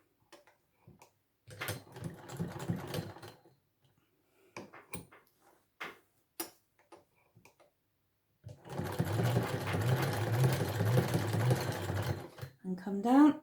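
A sewing machine back stitches on a handbag tidy in short bursts of rapid mechanical whirring separated by pauses and small clicks, then runs in a longer steady stretch, close and clear.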